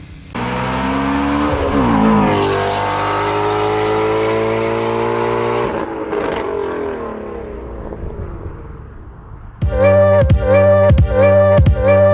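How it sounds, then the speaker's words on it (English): Race cars at a 24 Hours of Lemons endurance event at MSR Houston, a loud engine roar sweeping up in pitch and then fading, followed by a closer, steady buzzing engine note with repeated pulses. "Oh my gosh, look at how many freaking cars there are out here."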